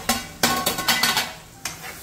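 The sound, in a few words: frying and stirring in oil until light brown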